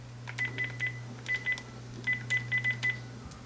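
Phone dialing tones placed to call an iPhone: a series of short, clear beeps in quick uneven bursts, over a low steady hum.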